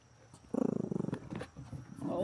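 A large dog gives a short, rough throaty growl close by, pulsing for about half a second amid quieter outdoor background noise, with a person's voice nearby.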